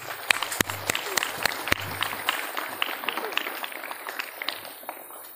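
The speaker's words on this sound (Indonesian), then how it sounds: "Tepuk tangan untuk kita semuanya." Santri audience at a National Santri Day assembly clapping in scattered, uneven bursts, with sharp individual claps standing out against a thinner spread of hands and some background murmur.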